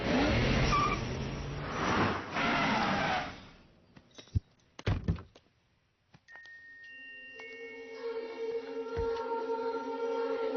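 Movie sound effect of cars driving off at speed: a loud roaring rush of engines fades out, then door thumps and clunks, then a new engine starts and hums steadily with tonal whine.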